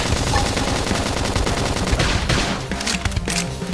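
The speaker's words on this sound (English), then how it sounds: "Lay down some cover fire!" Dense, rapid video-game gunfire from Xenoblade Chronicles X, sustained bursts of shots and impacts packed close together, loud and continuous throughout.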